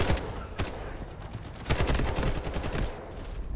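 AK rifle gunfire in Delta Force rattles out in dense, rapid automatic bursts that are loud and close and keep going almost without pause through the whole moment.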